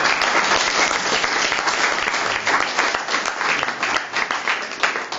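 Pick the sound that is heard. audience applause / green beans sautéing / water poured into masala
audience applause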